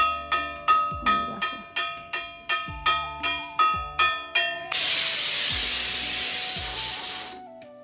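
A kitchen pressure cooker, cooking potatoes for a fish curry, rattles out a quick run of about a dozen rhythmic valve puffs, then lets go a loud, sustained steam whistle that hisses for a few seconds before dying away.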